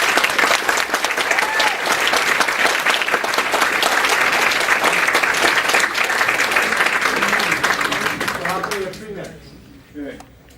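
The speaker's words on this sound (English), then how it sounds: "Now you can applaud." An audience at a political debate breaks into loud, sustained applause. It runs strongly for about eight seconds, then thins out and dies away into near silence with a few scattered claps.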